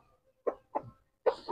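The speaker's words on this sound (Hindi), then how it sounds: "मुर्गी को बुला रहा अपने पास ऐसे करके, ऐसे मुर्गी को बुलाते हैं।" A rooster on a farm calls a hen with low, throaty clucks, heard close in three short bursts with quiet between them.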